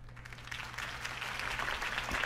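Applause from a crowd after a campaign speech, a soft, continuous patter of clapping building slightly, heard at a distance under a low background hum.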